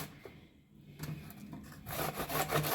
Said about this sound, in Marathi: अशा पद्धतीनं आपण सर्व हळद किसून घेऊया.